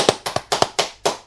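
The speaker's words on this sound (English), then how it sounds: "All the people in the store applaud his appearance." Film scene of a crowd in a bookshop applauding, heard as a short run of about six sharp, distinct claps at an uneven rhythm, close and fairly loud.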